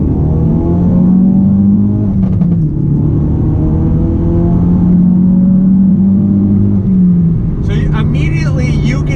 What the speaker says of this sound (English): we're gonna go ahead and wait for this light to turn green and show you a little acceleration